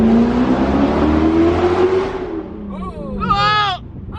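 Straight-piped BMW M3 engine revs hard with a rising whine for about two seconds, then drops away as a voice speaks briefly over the fading idle.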